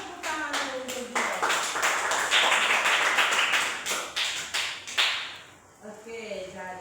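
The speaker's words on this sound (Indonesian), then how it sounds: "Tepuk tangan dulu untuk dia." Classroom students clap their hands together in a round of applause lasting several seconds, with a teacher's voice speaking before and after the clapping.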